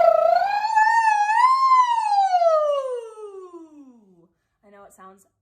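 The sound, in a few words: voice imitating siren with lip trill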